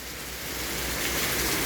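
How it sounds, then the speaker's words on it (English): Heavy storm rain pours steadily off a roof, a dense, continuous wash of falling water that stays loud and close and swells slightly toward the end, with no voices. "that tells you how much rain we got here. And the rain is coming off the roof."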